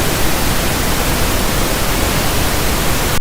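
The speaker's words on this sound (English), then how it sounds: "you pump what's known as pink noise into the room" Pink noise pumped into a room for ringing out a sound system: a loud, steady, broadband hiss like rushing static, unchanging from start to finish with no voices.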